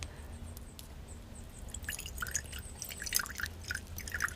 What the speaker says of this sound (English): So let's pour some out for you.